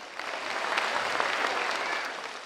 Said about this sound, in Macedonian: Аплауз за IW Connect.